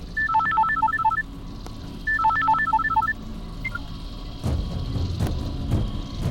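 Two quick bursts of electronic phone keypad tones, a rapid sequence of beeps, followed by a single beep and then low rumbling background noise.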